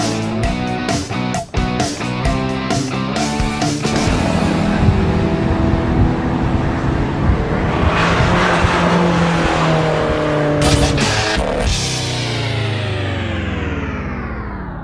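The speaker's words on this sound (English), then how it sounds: "Listen to that engine note." 2012 Fiat 500 Abarth engine on a race track, revving hard through gear changes with a rising, buzzy note, a few sharp shift breaks, then a long pull that fades as the car moves away.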